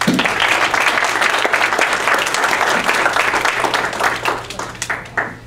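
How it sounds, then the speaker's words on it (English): A room at a school board of trustees meeting breaks into loud, close applause, dense clapping from many hands that runs continuously and tapers slightly at the end. "Big applause,"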